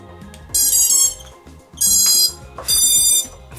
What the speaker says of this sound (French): Oh, le petit buzzer.